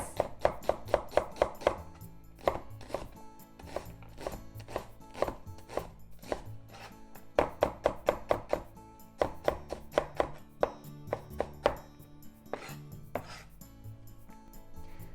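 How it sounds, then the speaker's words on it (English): Knife slices through shiitake mushrooms on a cutting board in quick bursts of crisp, close taps, pausing briefly between runs of cuts, with no voices. "Then slice."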